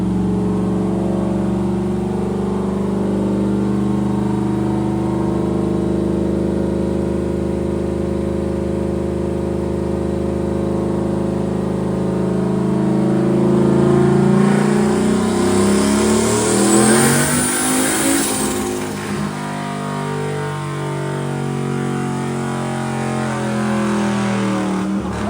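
A boosted Mustang engine on a dyno roars steadily through a long pull, climbing in pitch toward a peak of revs before easing off, loud and close with no talking.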